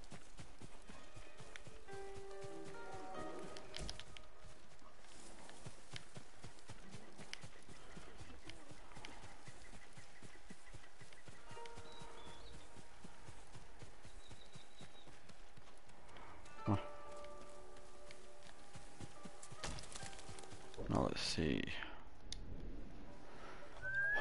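Horse hooves clip-clop at a run in Ghost of Tsushima, a steady galloping patter running under game sounds and a few faint voice bits, rising to louder bursts near the end.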